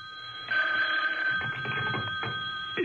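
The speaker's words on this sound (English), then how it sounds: "the phone rang." An old-fashioned telephone bell rings as a radio drama sound effect, a bright, steady trilling ring, loud and close, with faint rustling beneath it.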